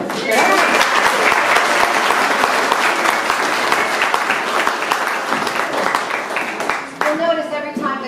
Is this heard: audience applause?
yes